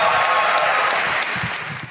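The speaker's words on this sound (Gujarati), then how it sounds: "With a huge round of applause, let's welcome Emily Shah" A studio audience at a comedy talk show claps in steady, dense applause, loud and sustained throughout, briefly dipping toward the end as it begins to fade.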